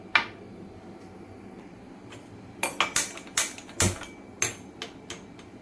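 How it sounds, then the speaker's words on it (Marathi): A metal kadhai is set down on a gas stove while prawn masala is cooked at home, giving a string of sharp, close metallic clanks and clatters that bunch up in the second half after a quiet start. "गॅसवरती मी कढई ठेवली आहे"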